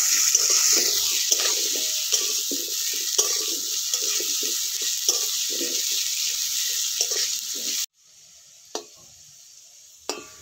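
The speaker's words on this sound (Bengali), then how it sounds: "এবার আলুগুলোকে ভালো করে ভেজে নিচ্ছি।" Potatoes seasoned with salt and turmeric frying in mustard oil in a pan, a steady bright sizzle with stirring clatter throughout, then a sudden drop to quieter hiss with a few light clinks near the end.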